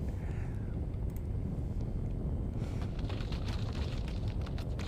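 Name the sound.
trees breaking and explosions, video game Swan Song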